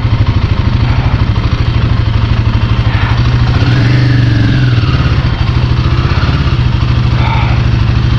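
A motorcycle on a touring trip in Manang, Nepal, idles loudly and close with a steady low throbbing beat and slight rev shifts, as bikes are parked at a mountain village homestay.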